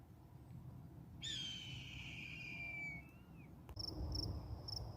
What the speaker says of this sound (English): There's a hawk or something that doesn't seem to be very happy with me